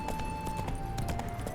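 Hooves of a horse clip-clopping in The Witcher 3 video game, a quick uneven run of hoof strikes close by under a steady tonal game music drone.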